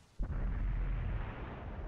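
A single artillery shell strikes a tank in a tank battle video game, giving a sudden close boom followed by a long, low rumbling decay, with no voices.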